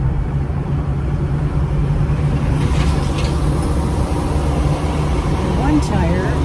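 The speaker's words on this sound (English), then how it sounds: "I should be driving a little slower considering I'm using a spare little tiny baby tire." A car rolling along on a small temporary spare tire, with a steady loud road and engine rumble filling the cabin and speech mixed in.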